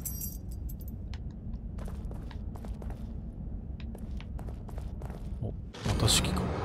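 Keys jangling as a key is picked up in the horror video game Psycho Break, a string of short, close metallic clinks and rattles over a low rumbling background, ending in a louder burst of noise.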